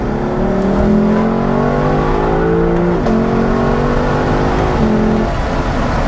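A Lexus LC500 accelerates in second gear with a loud, continuous engine roar that climbs steadily in pitch, with brief dips at gear changes, heard from inside the car.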